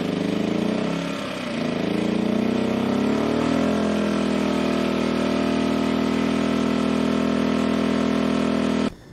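An E2000 portable generator, rated 1600 running and 2000 starting watts, runs an RV air conditioner on a fifth-wheel trailer. Its steady, loud engine drone wavers briefly near the start, holds evenly, then cuts off abruptly at the end.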